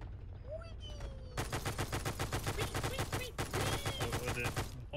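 Rapid automatic gunfire in the World War II battle game Arma 3 rattles in dense, evenly spaced bursts for several seconds after a short quieter lead-in, with no speech.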